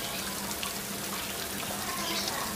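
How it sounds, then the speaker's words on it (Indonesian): Water trickles steadily through a green park, a continuous hissing, splashing flow that stays even and fairly close throughout. "Ada gemericik air"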